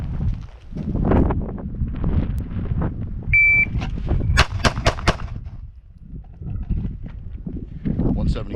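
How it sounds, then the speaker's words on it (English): A handgun fires four rounds from 3 yards during a law enforcement qualification course on a range: a tight cluster of four sharp, loud cracks in the middle, surrounded by voices and wind rumble. "I'm gonna draw and fire 4 rounds in 8 seconds."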